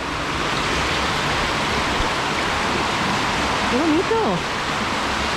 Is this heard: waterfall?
yes